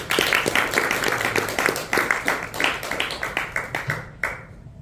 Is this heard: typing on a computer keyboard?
no